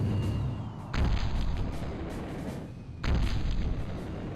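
Enemy gun turrets firing in Battlezone '98, two heavy booming blasts spaced a couple of seconds apart, each with a long rumbling tail over a steady low hum.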